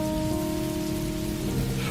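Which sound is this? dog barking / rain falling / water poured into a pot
rain falling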